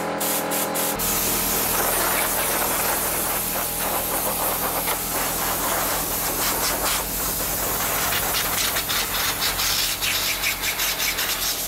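An air compressor nozzle blasts water off a mountain bike in a loud, continuous hiss with spraying, spattering texture, close to the microphone and without pause.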